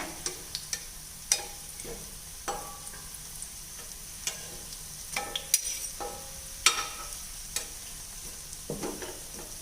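Virudhunagar-style parotta fries in oil in a pan. Soft crackling sizzle continues throughout, broken by intermittent sharp clicks and scrapes of a spatula against the pan, close by.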